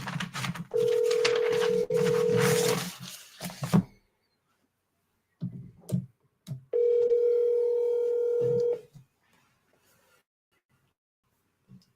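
A telephone call gives two long, steady ringback tones, one after the other and split by a pause, with faint handling noise around them in a quiet office.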